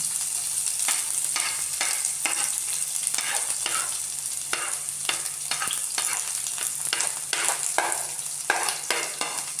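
Onion, shallot and garlic fry together in a pan with a steady sizzle, broken by repeated sharp scraping strokes of stirring, close and fairly quiet with no talk.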